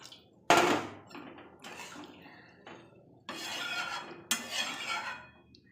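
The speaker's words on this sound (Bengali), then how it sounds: "জল দিয়ে দেবো।" Water splashes into a pan of fish curry with ridge gourd in several separate close pours and clatters of the vessel, each burst short and bright with quiet gaps between.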